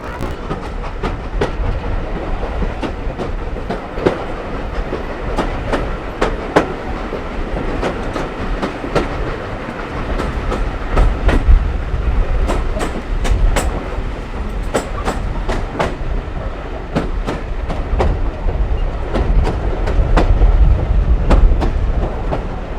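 A steam train rolls along the rails of the Keighley & Worth Valley Railway near Haworth with a steady rumble and rhythmic clickety-clack, loud and close throughout.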